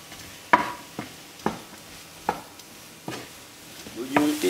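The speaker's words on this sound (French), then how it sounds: "On fait revenir donc l'ensemble, oignons et champignons, dans le beurre." Onions and mushrooms cooking in butter in a pan, with periodic sharp scraping stirs roughly every second over a faint sizzle, close and fairly quiet.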